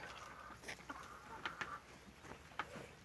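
Soft, scattered clucks from egg-laying hens come in short irregular bursts, faint and somewhat distant against a quiet outdoor background.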